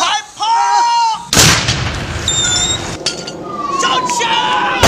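A big cannon fires with a sudden loud blast, followed by clinking debris and crowd noise, while people's voices and whistling are heard before and around the shot.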